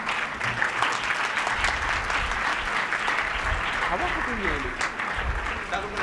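Students applaud after a poem recitation in a classroom, with a sustained, dense burst of clapping, fairly loud and steady, and a voice speaking briefly underneath near the end.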